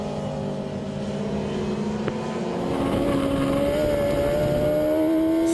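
Racing sidecar outfit ridden on board by brothers Ben and Tom Birchall at the Hungaroring circuit, FIM Sidecar World Championship 2012: a steady, loud engine drone that holds and rises in pitch as it accelerates, with constant wind and track roar and no talk.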